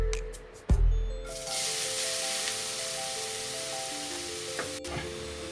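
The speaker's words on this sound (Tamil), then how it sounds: "நான் அதுலேயே கேரட் போட்டு நல்லா ஃப்ரை பண்ணிக்கிறேன்." One kilogram of carrots hits hot ghee in a kadai for carrot halwa, starting with a sharp thump and then settling into a loud, continuous sizzle and crackle with stirring scrapes. Nobody speaks.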